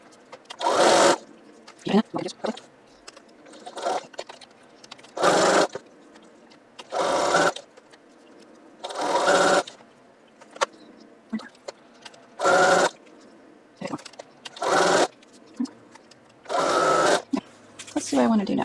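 Sewing machine stitching the slanted side of an Italy quilt block, running in repeated short bursts with pauses between, close and fairly loud, with a person talking in the gaps.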